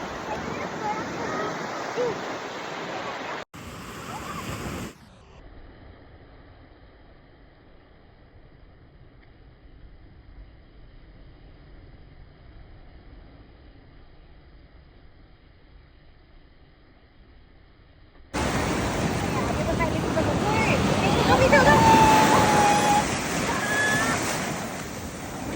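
Ocean surf rolling onto Candolim Beach in Goa, a steady loud wash of breaking waves with wind buffeting the microphone, dropping to a quieter lull in the middle before the roar of the waves returns strongly.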